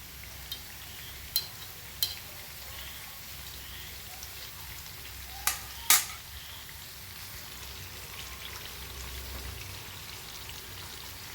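Unniyappam frying in hot oil, a soft steady sizzle with a few sharp crackles and pops, close and alone without talk.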